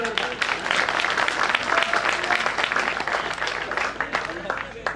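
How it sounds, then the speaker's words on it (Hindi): Audience applause at a Hindi humour poetry recital (kavi sammelan) in Piplantri, dense continuous clapping filling the space with voices mixed in throughout. "ताली बजाओ यार।"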